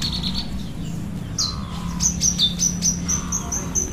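White-rumped shama birds chirp and whistle in a series of bright, short notes over a low background hum, several calls in quick succession.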